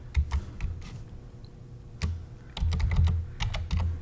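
Quick bursts of keystrokes on a computer keyboard while a file is renamed during a VPX pinball table install, with clusters of clicky taps separated by short pauses, close and fairly quiet.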